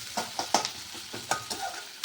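Chicken is stirred and fried in a pan before going into a pressure cooker, with a steady sizzle broken by repeated scraping clinks of a spoon against metal, close up and with no talking.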